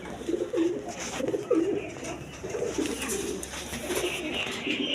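Pigeons coo steadily in a loft, several soft throaty calls overlapping and repeating throughout, heard close and without talk.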